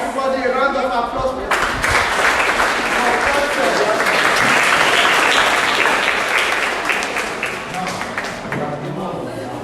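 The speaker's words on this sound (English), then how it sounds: "Everybody, a round of applause." Conference audience at a Rotary Club Interact Day event bursting into loud, dense applause that swells after a moment of talk and holds steady for several seconds, with voices audible underneath before it gradually eases off.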